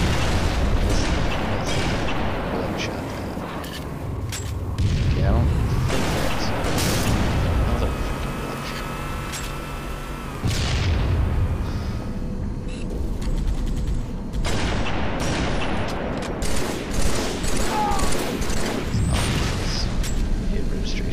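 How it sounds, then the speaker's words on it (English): Grenade explosions and gunfire fill a firefight in a first-person shooter game with a sniper rifle: dense, continuous rattling shots broken by heavy booms, loud and close throughout, with a voice speaking at times. "Okay, so they're throwing nades."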